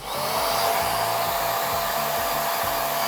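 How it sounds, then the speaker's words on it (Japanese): A handheld hair dryer blows steadily on bleached hair during a salon balayage retouch, a loud, continuous whoosh with a low motor hum that holds unbroken for about three seconds, with no voices. "ここを持ってドライヤーで落とします。"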